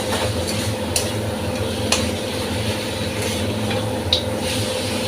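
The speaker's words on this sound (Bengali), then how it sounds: "তো ভালোভাবে এর সঙ্গে আমি একটু নাড়িয়ে চাড়িয়ে এটা ভেজে দেব" A fried rohu fish head is stirred into spice masala in a pan, making a moderate low sizzle with a rumbling undertone and a few soft clinks from the spoon against the pan. No one speaks.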